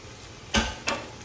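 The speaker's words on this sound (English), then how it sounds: "I'm gonna mix my chorizo. Okay, in the papas. Just mix it all in there." Chorizo and potatoes being stirred in a pan over medium heat: two quick scraping knocks of a utensil sound close, one after the other, over a faint background hiss.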